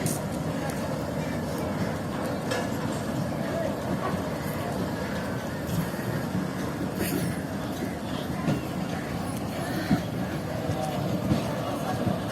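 A train pulling out of Panna railway station, heard from inside an AC coach as a low continuous rumble with rhythmic wheel clatter and scattered knocks, steady throughout while a voice talks over it.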